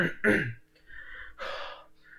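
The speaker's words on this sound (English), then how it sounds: "hold on, let me clear my throat" A person clears their throat in a few short, raspy bursts with brief pauses between them, close and fairly quiet.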